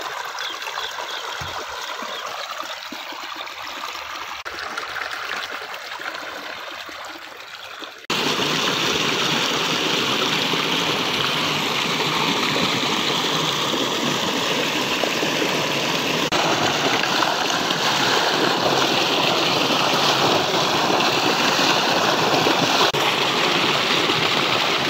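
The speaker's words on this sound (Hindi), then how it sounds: "फ्रेश पानी आ रहा है।" Fresh irrigation water flows steadily into a vegetable field, a broad continuous rushing and trickling that grows louder and fuller after the first few seconds, with no talk.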